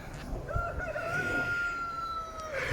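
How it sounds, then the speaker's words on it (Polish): A rooster crows one long, drawn-out call in Schöllkrippen, Bavaria, against a low rumbling outdoor background, fairly close and clear. "Kogut daje jak szalony."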